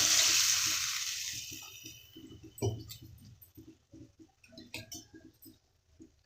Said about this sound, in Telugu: కొద్దిగా వాటర్ వేసుకోండి